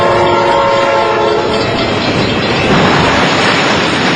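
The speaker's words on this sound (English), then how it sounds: "the semi-truck trailer disintegrates as the Amtrak train plows right through it" An Amtrak train at a crossing sounds its horn loudly, then rumbles and clatters over the rails in a dense, steady roar as it strikes a semi-truck trailer.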